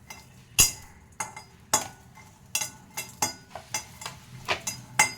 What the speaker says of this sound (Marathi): मटारच्या चटणीसाठी आपण आता ही कढई ठेवलेली आहे तर त्यामध्ये ही मटार घालते मी भाजण्यासाठी